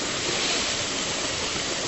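Waterfall at the Cascade des Quaires spilling behind overhanging rock, a steady, dense roar of falling water filling the whole clip at close range with no voices.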